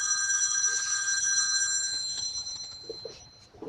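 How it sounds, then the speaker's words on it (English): A telephone rings with steady electronic tones, fairly loud and continuous, fading slightly near the end with faint background noise. "my phone's ringing"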